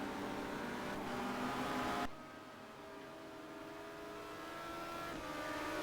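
1990 touring race cars run at speed on the Nordschleife with a sustained, loud engine drone that drops abruptly in pitch and level partway through, then slowly builds again.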